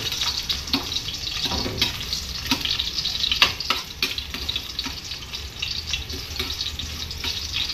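Garlic sautés in a hot pan with a continuous crackling sizzle, punctuated by scattered light scrapes and taps of a utensil, close and moderately quiet without speech.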